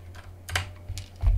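Keystrokes on a computer keyboard typing a query into a search field in Photoshop, a short burst of a few close, quiet taps alone against a low steady hum.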